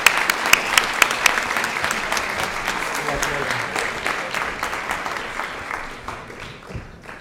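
Sustained applause from the audience at a Rotary Club meeting honoring scholarship winners, loud and steady at first with a few sharp claps standing out, then slowly tapering off toward the end.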